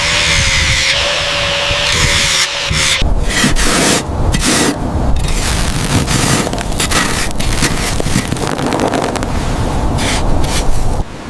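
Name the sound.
grinding rust from 1970 Dodge Charger frame rails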